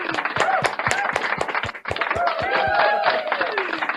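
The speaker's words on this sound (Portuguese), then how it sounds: "Vamos aplaudir o presente de Deus." Studio audience on a Brazilian gospel TV program clapping in a steady rhythmic beat, sharp distinct claps running throughout under a voice speaking over them.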